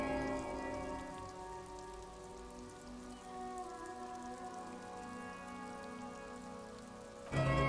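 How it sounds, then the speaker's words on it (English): Rain falling in the detective role-playing game Disco Elysium, a steady even patter on surfaces with a layered ambient drone beneath, continuing throughout with a brief louder swell at the very end, no talk. "It's starting to rain."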